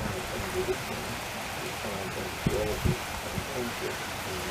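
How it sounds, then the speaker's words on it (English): Heavy wind-driven rain pours steadily outdoors as a dense, even hiss, with a few brief knocks and bumps near the middle. "The rain is going sideways."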